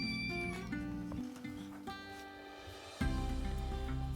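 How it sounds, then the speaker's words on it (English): A tiny kitten gives a run of insistent, high meows, one after another, up close with no talking. "The tiny kitten was meowing with all her might."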